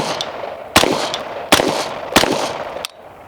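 Scoped rifle fired at an outdoor range in freezing weather: several sharp, loud shots spaced roughly evenly, each a hard crack with a brief echoing tail, over a steady background hiss and no talking.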